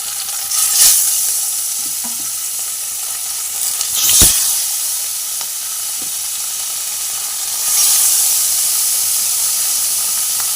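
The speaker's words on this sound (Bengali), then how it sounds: "দেখুন বন্ধুরা, মাছগুলো কি সুন্দর ভাজা হচ্ছে।" Parshe fish sizzle and hiss as they fry in hot oil in a kadai, a steady loud crackle with occasional sharper spits and bursts of steam, no voices.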